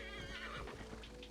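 A horse in Assassin's Creed Valhalla gives a loud, close whinny that trails off, with hooves clip-clopping underneath.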